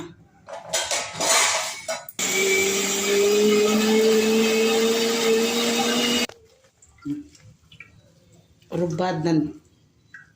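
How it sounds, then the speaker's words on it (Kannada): Mixer grinder whirs loudly and steadily for about four seconds, grinding coconut to extract milk for ragi halwa, with a voice talking before and after in a home kitchen. "ಬನ್ನಿ ಇದನ್ನು ಸಣ್ಣಕ್ಕೆ ಮಿಕ್ಸಿನಲ್ಲಿ ರುಬ್ಕೊಂಡು ಹಾಲು ತಕ್ಕೊಳ್ಳೋಣ."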